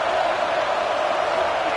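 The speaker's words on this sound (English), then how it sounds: "this crowd is fired up. Listen to this noise here." Stadium crowd in College Football 26, a dense, steady roar of massed cheering that fills the short stretch without pause or breaks.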